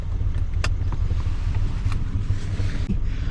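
A Datsun 280Z engine, freshly tuned with EFI, idles around 800 rpm in a steady, even low rumble that runs unbroken and close throughout.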